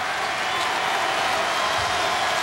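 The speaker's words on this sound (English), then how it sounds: "And here comes the crowd again" A packed college basketball arena crowd roars continuously in a dense, loud wash of cheering and clapping during a Pitt Panthers at Villanova Wildcats game, a steady swell of noise with no pause.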